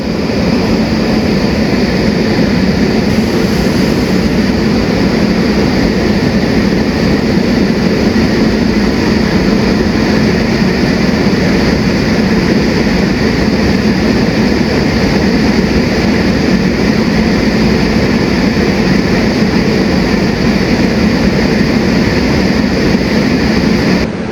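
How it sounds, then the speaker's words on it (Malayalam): The Dhanbad–Alappuzha Express rumbles steadily past near Coimbatore North, a loud, continuous roar of wheels and carriages with no break for the full length. "നമ്മുടെ ധൻബാദ് ആലപ്പുഴ അപ്പുറത്തൂടെ പോകുന്നുണ്ട് കേട്ടോ"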